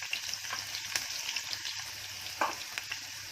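Chopped curry leaves, chili pieces and crushed garlic fry in hot oil for a bombil tempering, giving a continuous close sizzle with a few sharp crackles and spoon stirs.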